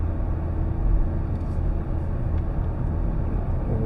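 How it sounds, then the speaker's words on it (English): A 2024 Hyundai i30 Sedan Premium engine drones in sport mode, holding gears longer, as a steady low rumble with road noise heard from inside the cabin, even and moderately loud throughout. "with sport mode, it does hold on to the gears a little longer. You do get a bit more engine noise"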